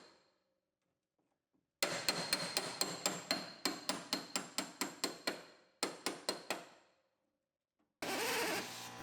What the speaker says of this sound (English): Break all our spot welds loose all the way across